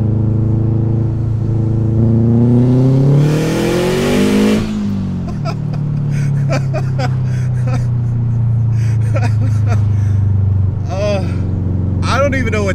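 A 2006 Subaru WRX STI with an external wastegate accelerates hard, its loud engine climbing in pitch before a burst of wastegate hiss, then settling into a steady drone with chirps and a voice reacting in the cabin.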